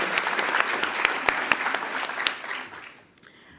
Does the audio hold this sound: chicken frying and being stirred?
no